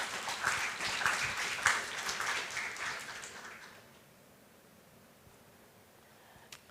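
Audience applause after a keynote speech by former Prime Minister Ansip at a lunch event fills the room for about four seconds, then dies away to near quiet.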